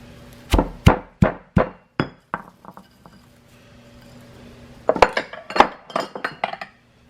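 Fried shallot and garlic are pounded in a mortar for Lao jeow bong chili sauce, a run of sharp, evenly spaced thuds, a pause with lighter taps, then a quicker flurry of pounding knocks, close and without talk.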